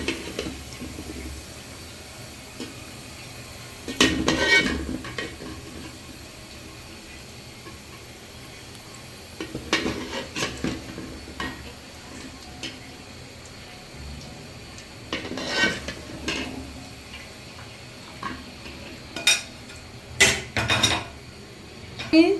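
Utensils clink and scrape against a pan as fried onions are lifted out while cooking pulao, in a few brief bursts of clatter with quiet gaps between them.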